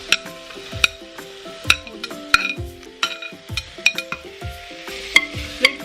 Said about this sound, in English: We'll toss the potatoes, tomatoes.